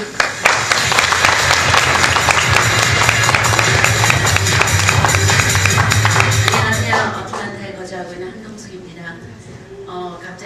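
Loud applause from a large audience, steady dense clapping for about seven seconds before fading into quieter scattered claps and room noise.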